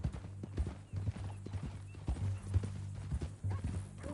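Steady hoof clip-clops of a walking horse in Red Dead Redemption 2, close and rhythmic, over a low hum with faint background noise.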